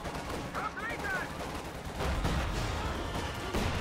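A heavy mortar shot in a World War II style strategy game, with a loud, dense boom of explosions and gunfire that thickens partway through, mixed with faint game voices.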